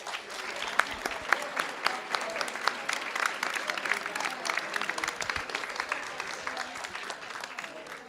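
Audience at a Boerne ISD school board of trustees meeting applauding, a sustained round of scattered hand claps from a modest crowd, moderately quiet and even throughout.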